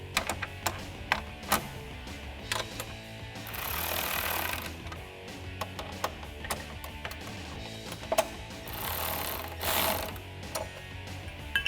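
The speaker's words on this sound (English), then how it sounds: "we can loosely tighten those down with a 10mm socket and a 10mm wrench" A ratchet with a 10mm socket and a 10mm wrench snugs down bolts while installing Rocker Armor side step bars on a Jeep Wrangler JL, giving close, repeated clicking bursts with brief pauses and a couple of longer runs.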